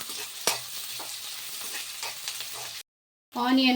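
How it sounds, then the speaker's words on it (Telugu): Onions sizzle and crackle in hot oil in a pan while a spoon stirs and scrapes them, a steady close-up frying hiss for Madurai chicken chukka, broken by a brief silence near the end. "మంచిగా ఫ్రై అవ్వాలి ఆనియన్"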